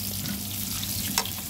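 Dried fish, daing na dangit and galunggong fresh from the freezer, sizzles steadily in hot oil, a soft continuous crackle with one brief sharper pop.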